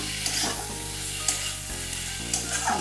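Fried bitter gourd stir-frying with spices in a pan, a continuous close sizzle with periodic scraping stirs and light clatters, no talking.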